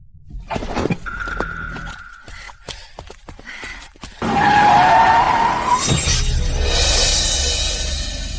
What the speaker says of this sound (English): Someone suddenly ran out. I braked.